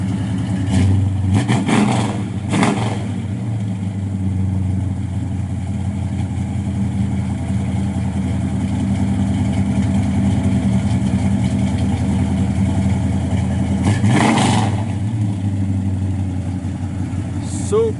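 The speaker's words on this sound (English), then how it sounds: "Sounds real good out the exhaust." Steady, loud idle of a 1967 Oldsmobile Cutlass 442 through its exhaust, broken by a few sharp revs early and one more near the end. Each blip rises and settles back into the deep rumble.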